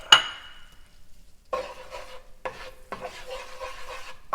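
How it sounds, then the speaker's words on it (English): Flour is stirred into melted butter in a pan for a bacon jalapeño mac and cheese roux; a sharp clink opens, then bursts of scraping and gentle sizzling come in uneven stretches with short pauses. "take your flour, put your flour in, and we're just going to mix that up"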